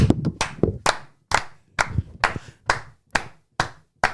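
A group of boys claps on cue in bursts of sharp, loud hand claps, roughly ten in a fairly steady rhythm, each ringing out briefly before the next, with no talking.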